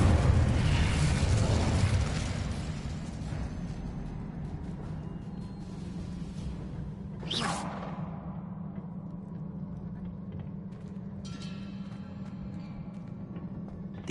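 Spellcasting in Hogwarts Legacy, including Accio, Levioso and Incendio: a steady low magical hum with rushing whooshes, and one sharp burst partway through before the hum settles again.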